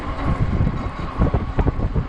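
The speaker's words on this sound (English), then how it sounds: "Oh, the ecotric is fighting the wind." Strong wind gusts of about 30 mph roar across the microphone while an Ecotric 20-inch 48V fat tire e-bike rides into the wind, a loud, continuous buffeting rumble.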